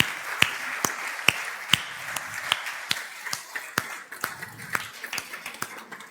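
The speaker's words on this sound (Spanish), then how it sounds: "Vamos a darle un aplauso juntos a nuestro Dios para glorificarlo." A church congregation claps together during a Sunday service, with sharp irregular hand claps ringing out over a faint room hum, moderately distant and steady without talk.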